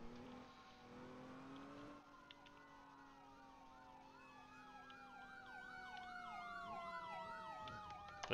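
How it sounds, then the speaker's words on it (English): Fire truck sirens in a driving video game wail continuously, rising and falling in a fast sweeping cycle that grows louder toward the end over steady engine and traffic noise. "Just the fire trucks, okay."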